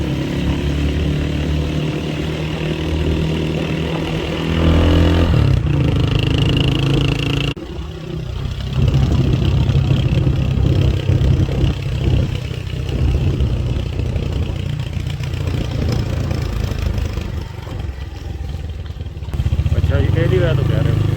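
Motorcycle engine chugging at low speed on a rough mountain track near a lake in Leepa Valley, a mid-pitched drone with shifts in tone, while people talk over it for much of the time.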